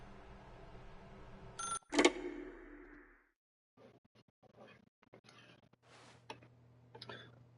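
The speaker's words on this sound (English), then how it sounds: "If you can truly place your faith in another, then pick up the phone." A telephone rings in the video game The Stanley Parable, a short bright ring burst that cuts off abruptly, followed by quiet ticking and small clicks.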